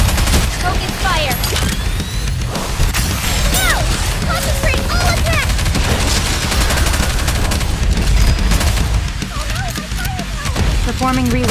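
Dense, continuous gunfire and explosions from a boss battle in the video game Goddess of Victory: Nikke, loud rapid bursts throughout with game voice lines and effects layered over them.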